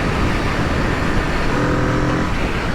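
A 2021 Aprilia RSV4 1100 Factory motorcycle ridden on a private road in Mexico, a loud continuous engine drone with heavy wind rush, steady and close throughout.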